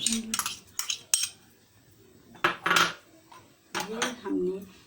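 Tomatoes and onion go into a metal pot for chicken karela, bringing close, loud bursts of clinking and scraping utensils against cookware, separated by brief quiet gaps.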